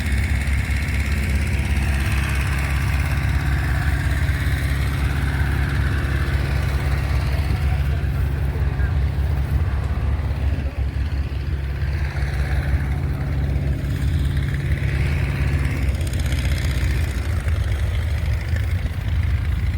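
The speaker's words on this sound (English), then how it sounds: "I do like these Massey Fergusons. That's a proper engine, isn't it?" Vintage Massey Ferguson tractor engines running at a classic vehicle and steam fair, a loud, steady diesel chug that carries on throughout with slight rises in revs, outdoors with a faint murmur of people in the background.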